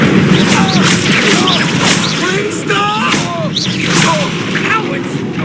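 Incendio fire spell cast in the Hogwarts Legacy video game, a series of bursting, crackling booms amid busy combat effects, with game character voices talking over it.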